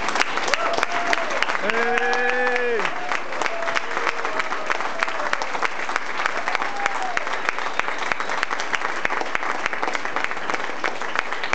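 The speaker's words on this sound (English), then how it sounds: "I hope I'm getting a big round of applause for the staff" A flashmob audience breaks into a big round of applause, dense and sustained clapping throughout, with a brief melodic voice rising above the crowd near the start.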